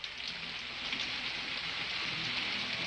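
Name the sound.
rain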